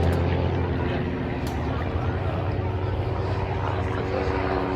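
Aerobatic display aircraft at the Duxford air show drone steadily overhead as a formation breaks apart and one climbs vertically for a stall turn, a continuous broad engine roar at even loudness throughout.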